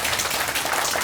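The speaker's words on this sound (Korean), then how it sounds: "진짜 박수 또 한 번 쳐" An indoor audience claps steadily during a Buddhist dharma gathering, a dense, even wash of many hands throughout the short moment without any voices.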